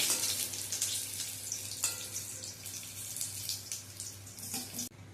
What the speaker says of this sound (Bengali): এরকমভাবে সমস্ত কাঁকরোলগুলো আমি ভেজে তুলে নেব